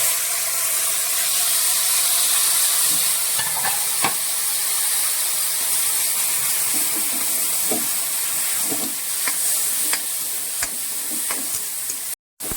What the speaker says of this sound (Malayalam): ഈ പൈനാപ്പിൾ ഇത് ഞാൻ ചെറിയ ചോപ്പ് ചെയ്തെടുത്തുകൊണ്ടാണ് ഞാനിങ്ങനെ ചട്ടിയിലിടുന്നത്.